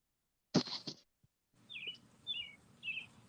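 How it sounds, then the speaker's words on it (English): Birds chirp faintly in the distance, three short high tweets spaced about half a second apart over a low background hum, after a brief louder burst of noise. "I hear birds chirping."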